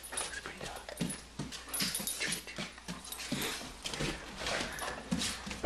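A dog whimpers and whines in short, repeated bursts, close by, mixed with panting and a person's soft voice in the background.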